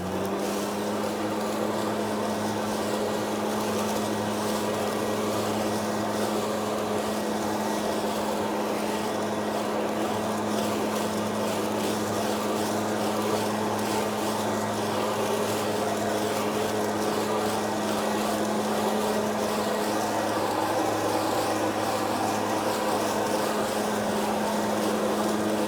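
A Husqvarna gas backpack leaf blower runs at full throttle while clearing leaves, a loud, continuous engine drone that holds steady throughout with no talking.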